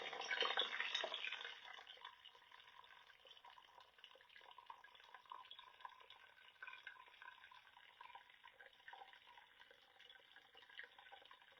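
Water pours into a bowl holding sourdough starter, starting as a brief louder splash and then settling into a faint, steady trickle and light sloshing, close by and with no voices.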